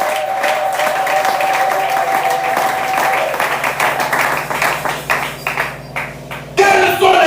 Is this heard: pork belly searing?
no